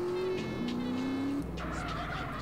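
A car driven in the video game GTA San Andreas, with a steady engine drone that shifts pitch, then tires squeal as it skids and corners, loud and continuous with no talking.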